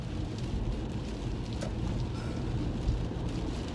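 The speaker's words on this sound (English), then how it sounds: "It's raining." Rain falls steadily on a moving car, heard from inside the cabin as a continuous low, even hiss and rumble at moderate volume, with no voices.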